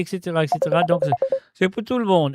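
Telephone keypad tones beep in a quick run of short pulses while a host talks in French over them on a live call-in radio show.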